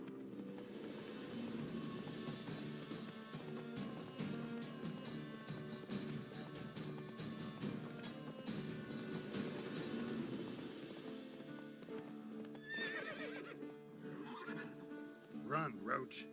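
Roach, a horse in The Witcher 3: Wild Hunt, gallops with steady clip-clop hoofbeats and lets out neighs, with other game sounds playing loudly underneath throughout.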